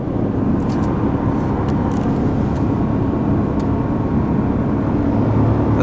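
A Ford F150 with the 5.0L Coyote engine towing up a 6% grade, a steady loud drone of engine and road noise heard from inside the cab, constant and without pauses.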